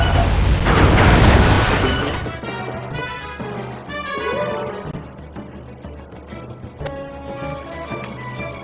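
Ship cannons firing in the video game Sly 3, a heavy booming blast at the start that rolls off into a long rumble, followed by layered game music and effects.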